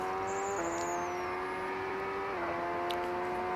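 A simulated race car runs at sustained high revs toward the finish line. Its engine whine stays steady, with small pitch drops at two brief shifts, and faint higher tones sit over a constant road-noise wash.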